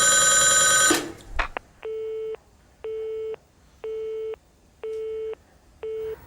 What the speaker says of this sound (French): Comme un téléphone normal, ça sonne.